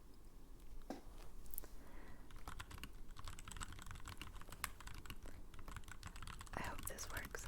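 Steady mechanical keyboard typing, a fast run of crisp clicky keystrokes close up and soft, with a faint whisper-like breathiness in the background of a quiet storywriting session.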